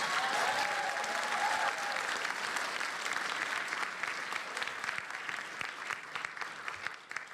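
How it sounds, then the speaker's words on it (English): Audience applause fills a PAX East 2020 gaming convention panel room, a steady dense clapping crowd that holds loud for several seconds and then thins slightly toward the end. "Everyone give Zyba a round of applause"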